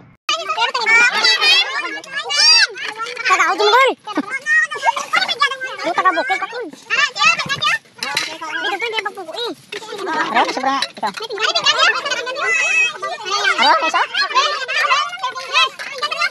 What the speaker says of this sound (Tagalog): Ang saya lang kahit nagkakagulo ang mga bata. Pakinggan nyo na lang kung gaano kami kaingay.